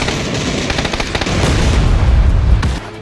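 A heavy C4 explosive blast rumbles in PUBG, a loud sustained roar of debris and booming that cuts off abruptly.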